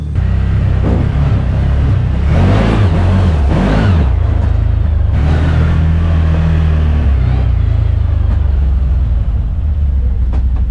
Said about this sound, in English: That exhaust does sound pretty good.